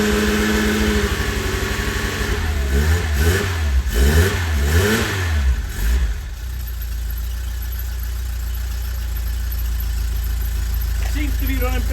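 A Vauxhall Nova barn-find engine with a cold battery runs steadily in freezing weather, revving up and down a few times before settling into a smooth, continuous idle.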